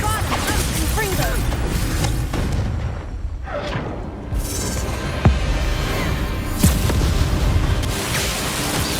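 Spell explosions from Bombarda and Confringo in Hogwarts Legacy on PS5 Pro, several heavy booms and crashing blasts with sharp impacts, loud and close, mixed with battle noise and shouted spell words.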